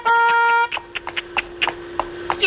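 A car horn blares in one sustained honk that cuts off abruptly, followed by scattered short knocks and clatter over a lingering low tone.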